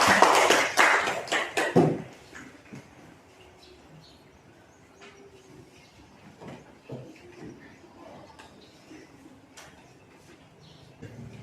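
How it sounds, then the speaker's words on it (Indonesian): A class in a teacher-training session claps for a presenting group: a loud, close burst of applause lasting about two seconds, then fading to a quiet room with faint scattered taps and shuffling. "Berikan tepuk tangan dulu buat kelompok montir."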